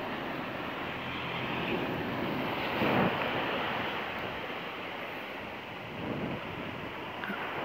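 Tidal flood water rushing along the coast in a strong current, a broad continuous wash with gusty wind across the microphone, fairly faint and steady with slight swells.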